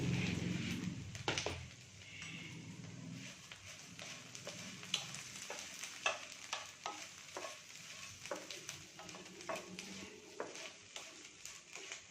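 Cornflakes frying in oil in a pan and being stirred, a steady close sizzle broken by repeated crisp scraping and clinking strokes of the spoon, fairly quiet throughout.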